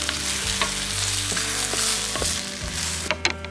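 Sliced sausage rings frying with golden onion in a pan, a steady soft sizzle with a few stirring scrapes and clinks, close and alone without voices.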